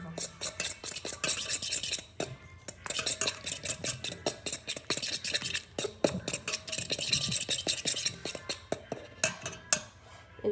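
A spoon or whisk scrapes and clinks steadily against a bowl while raw egg is beaten into mashed banana for a sweet banana pitha batter, close and continuous with brief pauses and no talk.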